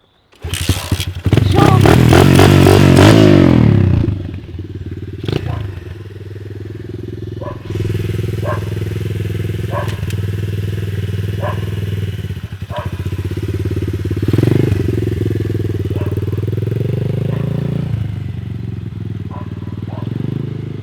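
A motocross motorcycle engine roars loudly at close range for a few seconds, then settles into a steady, rumbling idle for the rest of the clip, with occasional light clatter.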